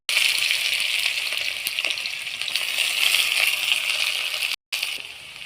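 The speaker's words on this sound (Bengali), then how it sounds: "শুকনো লঙ্কা, তেজপাতা, এবার দিয়ে দেবো পেঁয়াজ কুচি" Chopped onion dropped into hot oil with dried red chilli and bay leaf, a loud steady sizzle and crackle of frying close by, briefly cut out near the end, with no talking.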